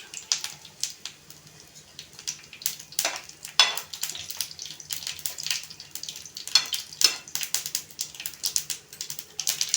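Mustard seeds crackle and pop in hot oil with dried red chillies, urad dal and curry leaves, a dense run of sharp little bursts over a faint steady hum.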